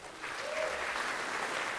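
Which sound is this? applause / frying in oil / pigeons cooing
applause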